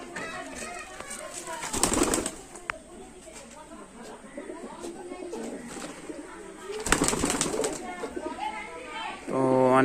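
Teddy pigeons coo repeatedly at close range alongside chicks, with someone talking over the birds at times.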